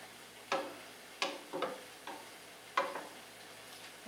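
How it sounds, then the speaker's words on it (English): A rice cooker cooking rice gives off scattered soft ticks and sputtering pops, a handful of faint, irregular bursts over a quiet background. "Also watching my rice cooker. It's going crazy over there."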